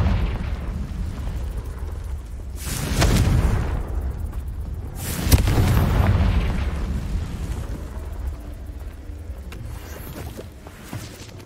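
Confringo blasting spell explosions in Hogwarts Legacy: two loud booming blasts a couple of seconds apart, each with a rumbling tail, over a steady low background roar.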